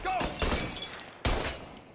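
Video game gunfire in Mafia: Definitive Edition, a few sharp blasts with a heavy hit near the start and another about a second later, ringing out briefly between shots.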